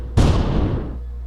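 A player's gunshot in a video game: one loud, close blast with a sharp attack and a long decaying boom, heard alone.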